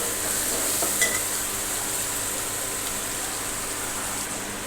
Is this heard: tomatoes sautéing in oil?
yes